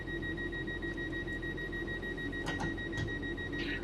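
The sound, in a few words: train cab safety system beeping in a video game train simulator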